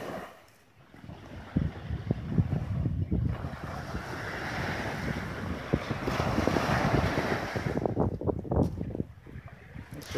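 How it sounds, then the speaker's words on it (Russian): A calm sea washes onto an empty autumn beach at Arkhipo-Osipovka, with gentle surf rolling in steadily while heavy wind buffets the microphone and rises and falls across the scene. "Немножко море поснимаю, посмотрите."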